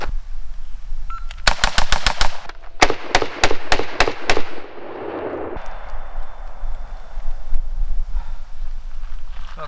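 AR-style rifle firing rapid strings of close, loud shots during a trigger comparison, one burst of about six quick shots, a short gap, then another fast string of five or six, with outdoor range ambience after.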